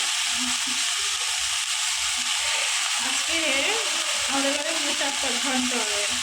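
Potatoes and eggplant fry in a home kitchen pan with a loud, steady sizzle throughout, while a voice talks over it during the second half.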